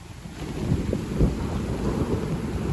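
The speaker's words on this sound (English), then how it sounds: "Thunder and lightning." Low rumbling thunder rolls beneath steady rain and wind noise during an electric unicycle ride, with no clear sharp crack, just a continuous deep grumble.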